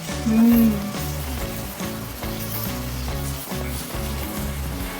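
Onions with tomatoes and butter sautéing in a pan for tawa pulao, giving a steady, close sizzle with soft rhythmic stirring scrapes, under no talk.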